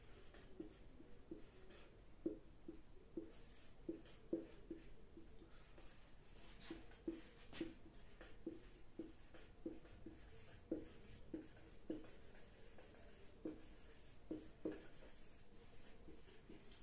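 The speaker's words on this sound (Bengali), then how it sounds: "আমরা লিখছি" Pen strokes on paper, quiet and close, a steady rhythm of short scratchy marks repeating with small pauses between words.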